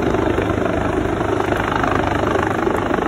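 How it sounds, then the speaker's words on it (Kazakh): A security helicopter circles close overhead during the Hajj stone-throwing ritual at the Jamarat, its loud rotor drone continuous and steady throughout without pause. "Антеп тынбастан тик учак учуп турат."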